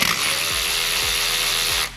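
A speed handle wrench turns to loosen a hot bolt on a motorcycle with a cammed 117-inch CVO engine, giving a continuous close ratcheting whir with a few soft clunks, ending abruptly.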